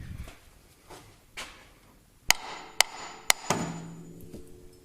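Three sharp metallic hammer strikes on a Honda Civic ball joint, with a fourth lighter knock, ring out close and loud in quick succession after a few softer taps in a quiet garage.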